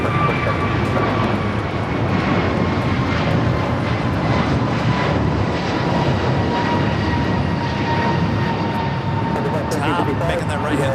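Airliner engines rumble steadily and loudly while taxiing at LAX, a continuous roar with a faint engine whine running through it, and a voice talks over the engine noise throughout.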